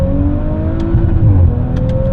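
An Audi RS4 accelerates at full throttle on a mountain pass, its engine holding a loud, steady droning tone that climbs slightly in pitch, heard close from inside the car with no voices.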